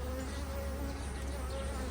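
Honey bees hum at an open, healthy beehive, giving a steady, dense drone that stays close and continuous throughout, with no pauses.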